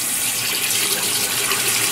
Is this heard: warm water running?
yes